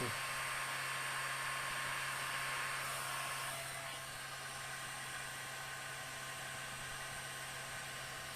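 Steady broadband whoosh of a hair dryer running at a low setting, continuous and close, with a constant hum underneath and no speech.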